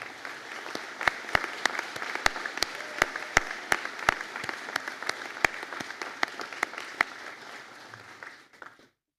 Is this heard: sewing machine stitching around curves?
no